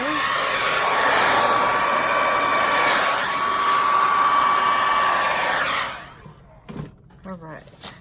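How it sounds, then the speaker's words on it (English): A hair dryer blow-drying wet paint on a canvas roars loudly and steadily with a thin whine on top, then cuts off near the end, leaving some quiet clatter and handling sounds. "I'm gonna blow dry this"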